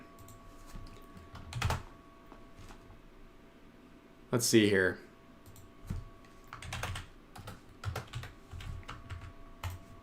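Soft clacking of a computer keyboard runs in scattered bursts at low level beneath a steady hum, while someone briefly speaks.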